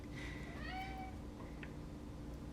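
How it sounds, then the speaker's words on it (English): A house cat meows a few times for attention during home soap-making, short rising and falling cries that sound soft and somewhat distant over a steady low background hum. "I don't know if you can hear my cat, but my cat wants my attention, I guess."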